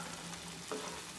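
Tomatoes and spices frying in a pan as they are stirred for an omelette, a steady soft sizzle with a brief scrape of the spoon midway, close and fairly quiet.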